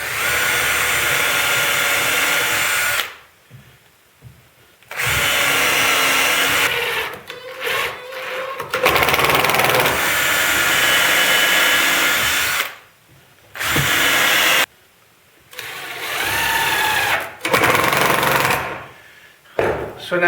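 A power drill whirs loudly in repeated bursts with short pauses between, the motor pitch shifting as it bores a pilot hole in wood and then drives a 2.5-inch screw while building a woodworking vise.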